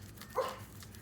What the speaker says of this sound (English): He always starts barking when I do a video because he wants all the attention.